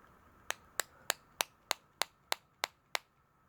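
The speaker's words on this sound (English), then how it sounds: "I'll take a brass hammer" Nine sharp metallic taps, evenly spaced, come from a brass hammer driving a ferro rod striker into a hole, each hit crisp and ringing briefly in a quiet room.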